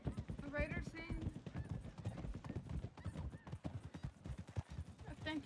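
A horse in a Red Dead roleplay video game clip-clops along with rhythmic hoofbeats and gives a short whinny, while people talk over the sounds nearly the whole time.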